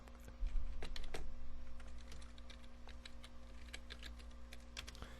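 Keystrokes on a computer keyboard while entering a variable name into a Python interactive interpreter, a quick irregular run of close, crisp clicks over a faint steady hum, with no talking.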